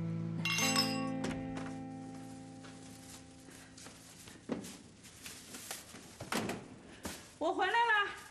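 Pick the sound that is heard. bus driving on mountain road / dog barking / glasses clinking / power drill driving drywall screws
glasses clinking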